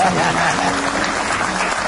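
A studio audience clapping in steady, dense applause on a talk show, loud throughout with a voice speaking over it.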